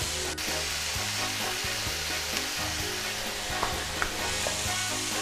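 Pad thai noodles and squid stir-fried in a pan: a loud, steady sizzle with repeated rhythmic scraping and tossing strokes, close and continuous.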